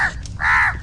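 A crow caws twice inside a video game, one short call and then a longer drawn-out caw, clear and close with no voices.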